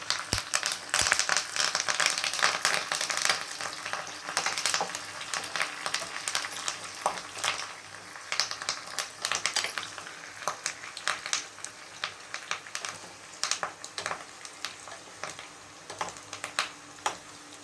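Dried red chillies and curry leaves frying in hot tempering oil for gongura dal, with dense, irregular sputtering crackles that start loud and thin out gradually, heard close up with no talking.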